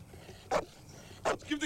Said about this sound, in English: Good doggy, good doggy.